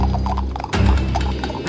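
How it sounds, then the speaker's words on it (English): Restless horses pulling a wagon clip-clop in quick, uneven hoofbeats alongside rattling, clattering wagon noise, close and loud throughout the short burst. "the horses are restless and no longer obey commands"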